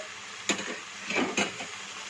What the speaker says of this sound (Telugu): పచ్చిమిర్చి అనేది మంచిగా స్మెల్ అనేది పోయేంత వరకు కూడా మంచిగా వేయించుకోవాలండి